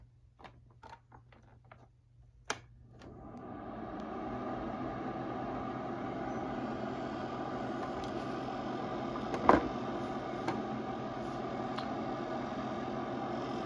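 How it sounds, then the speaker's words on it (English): A Sunbeam SCM2401 cool mist humidifier on its high setting: after a few light clicks, the small internal fan spins up into a steady, even whir that holds close and moderately quiet, with an occasional faint tick. "Tiny little fan in there spinning away."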